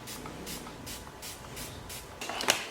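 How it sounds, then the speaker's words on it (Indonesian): Makeup setting spray is misted across the whole face from about 30 cm away, a series of soft, regular airy hisses over a quiet background, with a brighter, louder spray burst near the end. "dan semprotin ke seluruh wajah."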